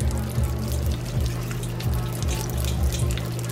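Liquor poured on top of a dark, black-coloured cocktail being mixed, a continuous close pour that runs steadily under a low repeating background hum, with no talking.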